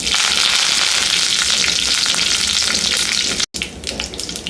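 Mustard seeds, urad dal and curry leaves hit hot oil with a loud, dense crackling sizzle that fills the space close up, briefly cutting out before the spattering resumes; no one speaks.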